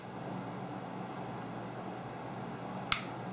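A single sharp, crisp click of a Ruger 9E pistol trigger resetting cuts through a quiet, low background hum near the end.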